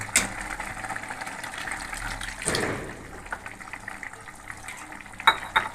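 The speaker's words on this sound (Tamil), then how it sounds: "இப்போ பாருங்கள் நல்லா கொதி வந்துருச்சு." Potato masala for poori simmering in a pan as gram flour batter is stirred in, with soft bubbling, liquid sloshing and a few metal spoon scrapes against the pot, close and moderately quiet throughout.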